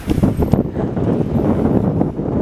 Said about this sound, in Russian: В принципе, тепло, но ветер задолбал.